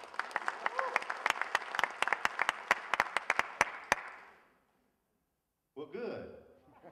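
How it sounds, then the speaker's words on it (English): Audience applause at a Gospel Station event in Hillsdale, Moore, Oklahoma: a crowd claps steadily for about four seconds with sharp individual claps standing out, then fades to silence before a voice begins speaking. "just applaud."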